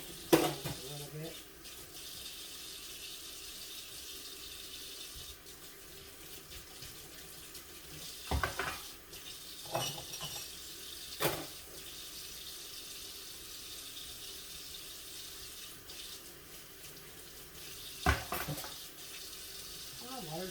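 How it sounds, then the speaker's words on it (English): Dishes being washed in a kitchen sink under a steady stream of running tap water, a continuous wash with occasional clinks and handling knocks, close by and moderately loud. "Wash these dishes with me."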